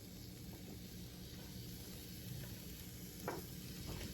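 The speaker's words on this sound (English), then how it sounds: "I'm going to give it a really good stir around to get as much of that apple coated" Apples sizzle in butter in a pan over medium-high heat, a steady soft frying hiss with faint scrapes of stirring and one brief clatter near the end.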